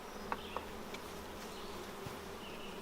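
Honeybees hum softly around a freshly split hive, a faint, steady drone with a few brief louder buzzes as individual bees pass close.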